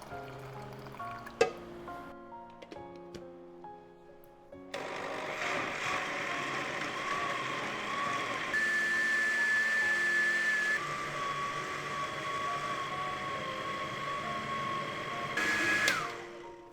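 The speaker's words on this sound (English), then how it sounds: "I'm going to toss these corn kernels into the blender and blend them until they're completely smooth." A blender whirs steadily for several seconds blending corn kernels with corn water after some clinking, its motor pitch shifting briefly near the end, close and loud.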